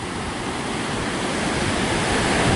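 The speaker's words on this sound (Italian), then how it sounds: "c'è un vento forte, il mare è mosso." Strong wind and rough sea waves at Marina di Torre del Lago beach, a constant loud broadband roar of surf and gusting air buffeting the microphone, swelling slightly toward the end with no voices.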